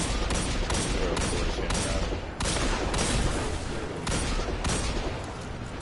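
Sustained gunfire from a first-person shooter video game, likely Destiny 2, with dense rapid bursts and booms filling the clip, loud and continuous with only brief dips.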